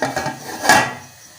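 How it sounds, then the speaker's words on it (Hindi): A lid set onto a cooking pot for a vegetable biryani, a short metallic clink and rattle after some faint handling noises, close by and brief with no talking. "ढक्कन लगा देते हैं।"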